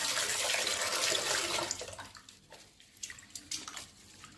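Fenugreek seeds and urad dal being rinsed in water for idli batter, with a steady running, splashing wash for the first half, then quieter intermittent sloshes and drips.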